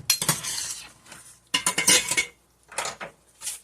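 Metal utensils clink and scrape against plates while anchovy tomato spaghetti is divided between two dishes, in short irregular bursts separated by brief quiet gaps, with no talking.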